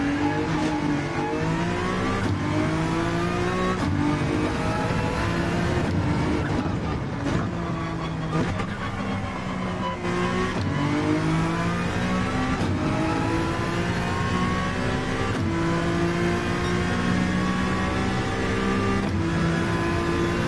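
A Honda NSX race car in Gran Turismo 7 at the Nurburgring, its engine revving loud and steady, climbing and dropping through gear changes with other cars droning nearby and no talk.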